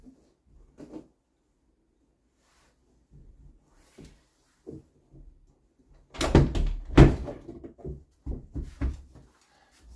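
A door pulled shut with a knotted bed sheet caught in it at the top, giving a cluster of close, loud wooden knocks and a thud after a few faint shuffles and taps.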